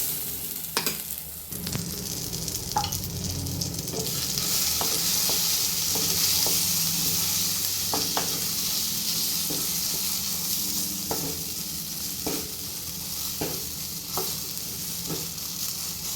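Green pea paste fries in oil in a pan, making a steady, close sizzle. Repeated sharp scraping and tapping of a stirring spoon punctuate the sizzle throughout.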